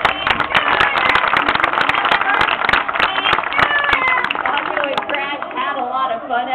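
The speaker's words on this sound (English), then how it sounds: "why don't we give all those birthdays a big round of applause?" Audience at a Florida theme park show claps for birthday guests, a dense burst of handclaps with scattered sharp claps, mixed with crowd noise and a voice talking over it.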